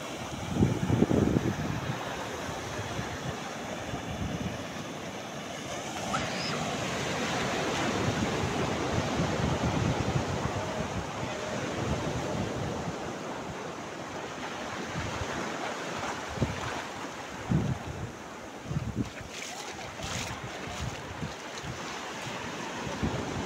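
Sea waves wash onto the shore in steady broadband surf, with wind buffeting the microphone throughout and no voices heard.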